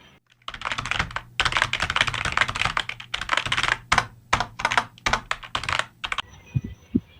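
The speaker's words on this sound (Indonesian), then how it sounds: "saya akan segera mengetik teks proklamasi sekarang juga" Rapid keyboard typing of a text, dense bursts of clicking keystrokes with brief pauses between runs, close and loud with no voices.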